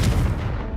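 A Confringo blasting curse goes off in Hogwarts Legacy, a deep, loud booming burst with a rumbling low end that holds through the brief moment without decaying, no voices present.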